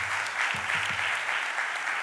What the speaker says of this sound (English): Please give Lower South and its potential a huge round of applause.